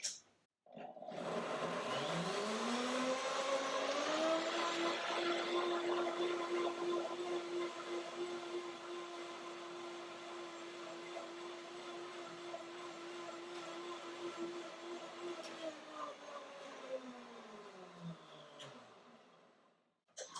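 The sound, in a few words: powerful blender running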